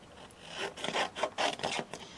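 Scissors or a blade cut through a double-sided adhesive sheet, trimming it to the size of a craft die, giving a close, dry rasping scrape in several short strokes with no talking.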